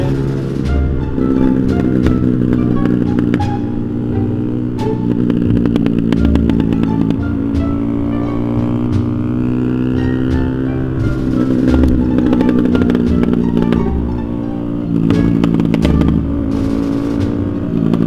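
A motorcycle with a broken, popping exhaust rumbles loud and steady during a night ride, its engine drone rising and falling with throttle changes and occasional sharp crackles throughout.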